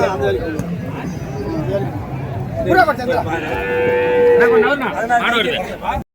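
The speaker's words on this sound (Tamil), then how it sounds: "ஒரு வளர்ப்பு கன்று ஒன்று எடுத்துகிட்டு வந்திருக்காங்க" Cattle low loudly and repeatedly at a busy cattle market, with drawn-out moos rising over a background of crowd chatter and people talking nearby.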